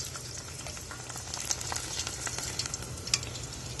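Prawn chips fry in plenty of peanut oil outdoors, a steady soft sizzle and bubbling with scattered crackles and pops, quiet and close, with no talking.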